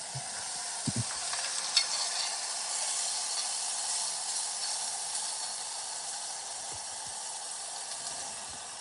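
A burger patty fries in butter in a pan, giving a steady, moderate sizzle with a few soft clinks and scrapes of a utensil, and no talking.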